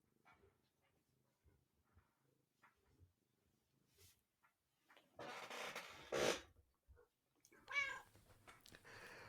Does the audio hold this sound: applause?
no